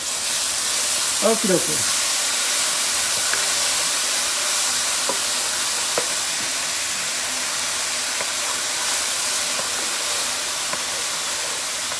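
Three garlic cloves added to a pan of softening onions for creamy Tuscan chicken, giving a constant close sizzle and hiss, with a few utensil clinks and someone speaking briefly.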